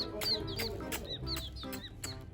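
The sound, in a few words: chicks clucking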